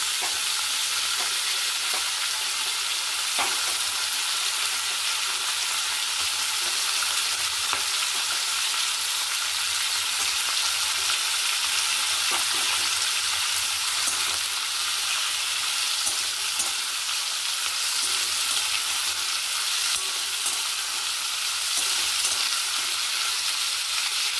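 Cut potatoes fry in a pan for a long stretch, making a loud, steady, close sizzle with scattered small pops; no voices are heard.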